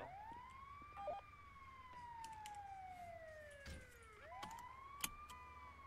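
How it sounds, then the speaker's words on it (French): A police siren wails in long rising and falling sweeps at a moderate distance, with a fresh rise partway through and brief knocks and clicks around it; no one speaks. "Le sirène."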